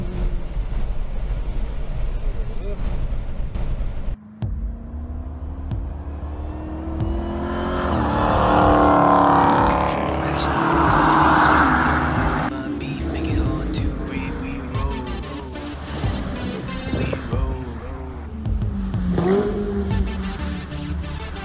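Nissan GT-R accelerating hard around a race track during a track day, engine note rising and falling through gear changes, loud and close with a strong surge mid-way, a voice briefly talking over it.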